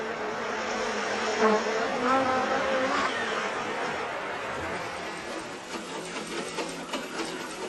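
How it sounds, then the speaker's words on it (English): Steady buzzing of bees, a dense continuous drone holding at moderate level throughout and easing slightly toward the end, with no voices. "I was watching the bees."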